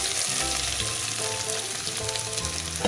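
Fresh coriander being stirred into hot ginger-garlic in a pan for Maharashtrian kothimbir wadi, with steady close sizzling and frying crackle plus scraping stir sounds throughout, no talking.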